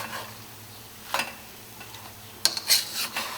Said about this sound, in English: Just needs constant mixing so you get an even tone soy sauce mix.